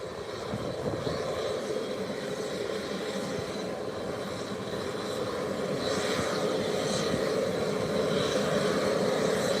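Airliner engines roar steadily at Howard Hamilton International airport, a broad continuous rumble holding near and loud throughout with a slight swell toward the end.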